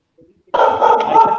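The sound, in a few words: dog barking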